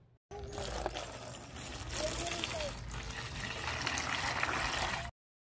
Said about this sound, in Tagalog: Dahil nga ito ay may putik pa kaya hugasan lang po natin ito.